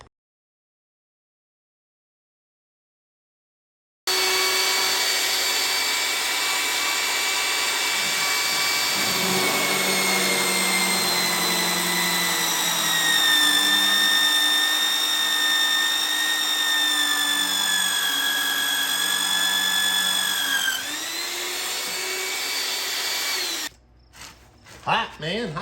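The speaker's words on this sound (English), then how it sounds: "I'm going to go ahead and drill it and go from there." Power drill boring into the steel frame of a Brockway 361 truck, a loud sustained whine after a silent start, pitch dipping near the end before stopping, with no talk.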